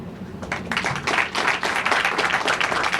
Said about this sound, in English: Ladies and gentlemen, once again, a round of applause, please.